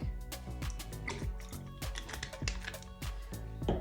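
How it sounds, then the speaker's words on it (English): Wig shampoo poured from a capful into a sink, wet drips and liquid splashes landing in quick succession, close up and fairly steady, without any speech. "fill up that capful with the shampoo, put it into the sink"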